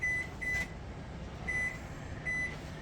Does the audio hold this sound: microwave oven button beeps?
yes